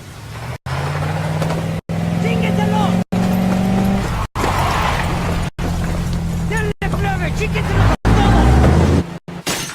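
A truck in Ghost Recon Wildlands drives off, its engine droning loud and close with rising gear changes, broken by brief gaps and heard under game voices and background crowd noise.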